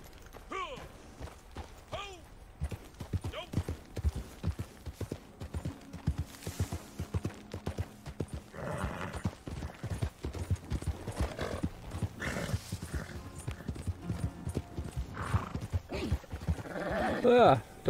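Horse hooves clop in a steady trotting rhythm in the video game Red Dead Redemption 2 Online, with a neigh and some bleating animals around, under occasional talk.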